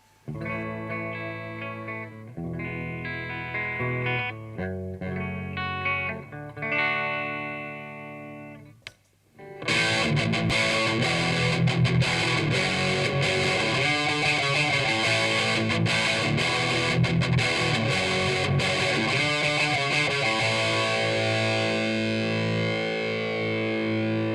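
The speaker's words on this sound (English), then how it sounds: "we're going to demo a nice rock and roll distortion, heavier than overdrive but not quite as extreme as the Dark Triad is capable of going" Electric guitar through a Dark Triad distortion pedal set to a rock-and-roll crunch: a few sparse picked chords and notes, a brief pause, then a sustained loud wall of distorted chords ringing out.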